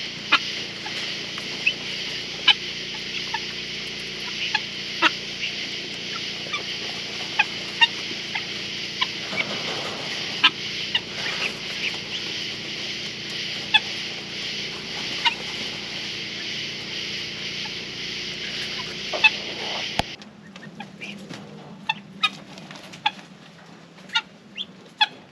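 Guinea fowl and chickens call from a homestead yard in scattered, sharp bursts over a steady outdoor hum. After about twenty seconds the background drops and the calls continue more sparsely.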